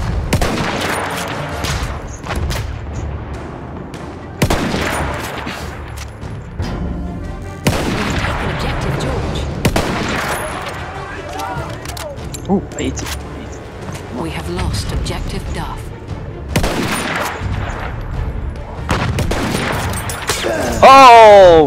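Repeated loud gunshots and booming blasts from the video game Battlefield 1, sharp reports recurring every few seconds over constant battle noise, with a player talking throughout.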